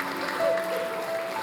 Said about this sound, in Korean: 우리 들어갈 때 큰 박수로 좀 축복해 주셨으면 좋겠어요.